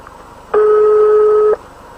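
A single telephone ring tone sounds during an Italian prank call, one steady electronic tone lasting about a second, clear and close against a quiet line.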